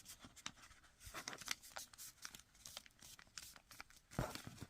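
Paper folded by hand for a fluted diamond origami ornament, with soft crinkles and crisp creasing rustles in quick irregular bursts, close and fairly quiet, a sharper crunch near the end.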